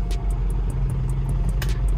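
A Ford Mustang GT Fastback classic car's engine idles close by with a low, steady rumble and faint ticking, alone without talk, just before being switched off.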